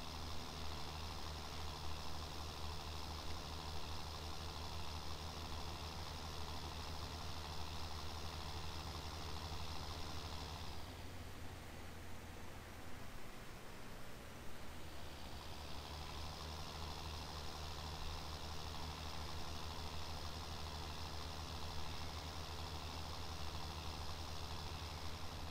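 A tractor engine idles in the farming simulator game, a loud steady rumble with tonal hum layered over it, dipping into a rougher, less tonal stretch partway through before settling back to the same even idle, with no talk.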